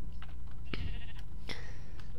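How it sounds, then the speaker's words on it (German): A Minecraft sheep bleats a few short times over steady background game noise, the calls fairly close and clear. "Hier ist ein Schaf."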